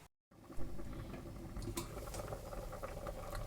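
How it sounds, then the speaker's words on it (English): Potatoes boil in salted water on a fire, producing a soft, steady bubbling and patter close by, faint overall and with no voices. "So right now it's boiling."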